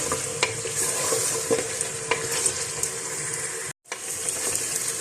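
Beef paya frying with ginger garlic paste in a pan, a steady loud sizzle with scraping stir strokes and small pops throughout, briefly cut off near the end.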